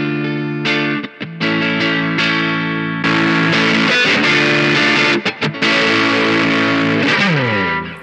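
Electric guitar through a modded Boss DS-1 distortion pedal plays sustained chords and single notes with a thick, saturated tone, loud and up close, with brief pauses between phrases.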